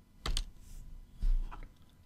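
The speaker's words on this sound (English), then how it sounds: "I can press on F12 on the keyboard" Keys are pressed on a computer keyboard, likely the F12 key, in two separate clusters of crisp, close clicks about a second apart. Nobody talks.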